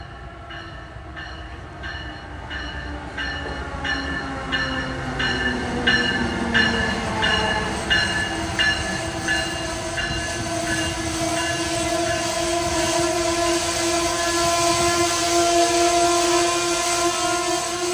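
A train rolls through Princeton Junction station in New Jersey, a steady loud rumble with squealing brake tones rising and holding over the wheel noise for the whole stretch.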